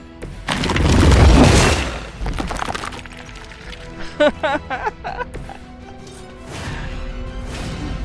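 A game explosion in Midnight Suns: a loud booming blast with crashing debris, followed by rapid combat effects and impacts, and a second rumble near the end.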